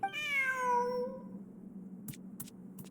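A cat in the video game Genshin Impact gives one clear, drawn-out meow at the start, close and fairly loud, fading after about a second, followed by a few faint clicks over quiet background.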